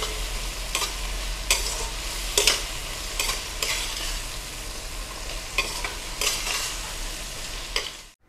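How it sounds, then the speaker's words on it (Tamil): Tomatoes sauté in a pan for a small-fish curry, a loud continuous sizzle punctuated by regular scraping strokes of a stirring spoon every second or so, close up and with no talking. "தக்காளி நல்லா வதங்கிட்டு"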